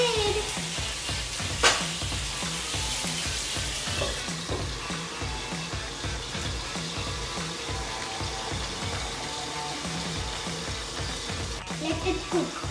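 Pomfret fish frying in oil in a pan closed with a lid, a steady dense sizzle with faint bubbling and crackle throughout, moderately loud and continuous.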